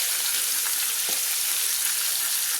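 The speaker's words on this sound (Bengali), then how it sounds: "সেই ম্যারিনেট করা মাথা দুটো দিয়ে দিচ্ছি ভেজে নেওয়ার জন্য" Two marinated catla fish heads fry in oil, giving a close, even, hissing sizzle that holds steady throughout with only a couple of faint pops.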